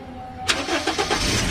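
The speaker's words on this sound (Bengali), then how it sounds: "তো আবার আমি স্টার্ট করে দেখাচ্ছি" A Toyota Hiace engine cranks and catches with the accelerator pressed, first a brief starter whir, then a sharp burst as it fires, followed by a few uneven throttle pulses settling toward idle, close and fairly loud.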